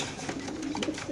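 Caged pigeons at a pigeon farm give soft, low coos, a few brief calls close by with a slightly louder one at the end, over faint background noise.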